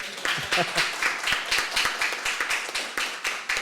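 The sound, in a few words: audience applause closing a session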